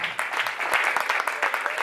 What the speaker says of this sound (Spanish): Denle un aplauso a Jesús en este día